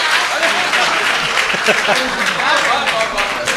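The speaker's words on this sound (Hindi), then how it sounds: "जोरदार तालियां एक बार" Audience applause for a poet at a lively Hindi-Urdu comic poetry recital, a sustained wash of clapping from a crowd that stays loud and steady throughout.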